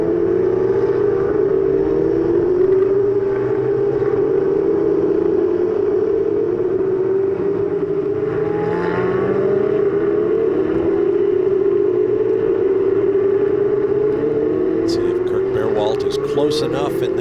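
Ferrari Challenge race cars in Coppa Shell competition at Circuit of the Americas, a yellow Ferrari running in the slipstream, their engines a sustained droning roar with shifting pitch beneath continuous commentary.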